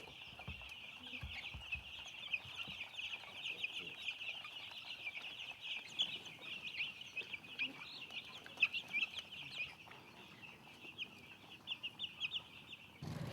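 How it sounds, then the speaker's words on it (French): Dense, continuous peeping of many chicks on a poultry farm, a steady shrill chorus with scattered louder cheeps and soft background clucking, close and busy throughout with no talk. "Chez son ami Abdul Aziz, il prendra connaissance de la race de poussins qu'il compte élever."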